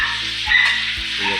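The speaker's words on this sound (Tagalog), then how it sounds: "Magsasangag muna siya ng kanin kasi sayang naman po yung kanin kapag hindi sinangag." Leftover rice frying in a pan for Filipino sinangag, a steady close broadband sizzle with faint scraping stirs, no voices.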